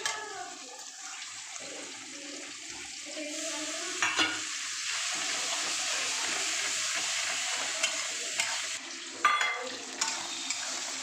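Garlic paste and ginger frying together as a masala in a pan, a broad, even sizzling hiss with a couple of brief clatters from stirring.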